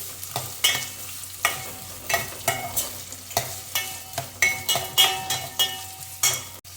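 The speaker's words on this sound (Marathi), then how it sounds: "कांदा फ्राय करा जोपर्यंत गोल्डन ब्राउन नाही होत तोपर्यंत" Chopped onions with green chillies frying in a pan, stirred with a spatula in repeated scraping strokes over a steady close sizzle, with occasional metallic clinks.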